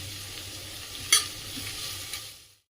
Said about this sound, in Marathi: त्यानंतर आता हे काजू टाकून घेत आहे